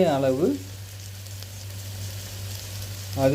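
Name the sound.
herbs sautéing in hot onion oil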